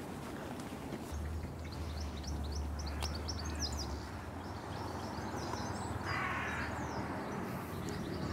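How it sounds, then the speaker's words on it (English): A large crow caws repeatedly near a museum in London, its harsh calls coming in short bursts over a constant low drone of city background noise, with no speech. "Hello, big crow."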